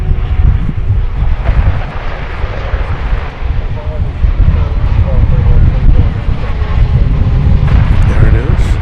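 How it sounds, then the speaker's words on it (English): A jet airliner's engines roar steadily on approach to land at DFW Airport, a loud broadband rumble with wind buffeting the microphone throughout. "I'll pull out so you can see this plane landing in relation to the 747."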